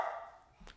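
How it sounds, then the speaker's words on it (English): Pet dogs barking indoors at someone arriving home: a brief, fairly faint burst of barking at the start, then quiet room tone and a short, sharp sound near the end. "my dogs are currently barking because either my dad or my sister just came home"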